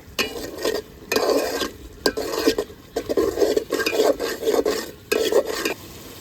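Tomato sautéed with spices in a pan for egg pulao, with repeated rhythmic spatula scrapes and stirring strokes over a soft sizzle, close and fairly loud.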